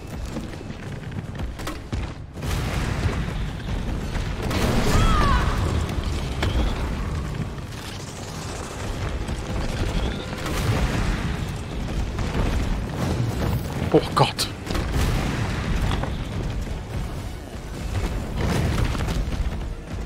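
Grenade blasts boom repeatedly in Resident Evil 3, heavy explosions rising and falling over about twenty seconds amid rumbling game noise.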